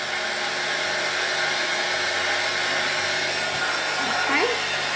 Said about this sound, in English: Just kind of want to melt the bottom, and then we will hit the top, make sure it's all melted. And keep your heat tool moving.